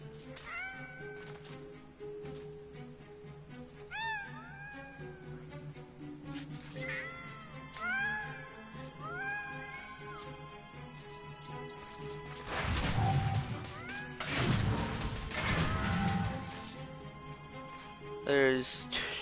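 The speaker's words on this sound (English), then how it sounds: "There's another fucking cat right there at the stairs." Cats meow repeatedly in the Medievil Remake game, a string of rising and falling cries spread through the stretch, mixed with crashes and smacking hits and louder clatter near the end.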